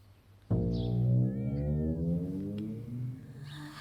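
A cat lets out one long, drawn-out meow that wavers and fades slowly, close and clear, with no one talking.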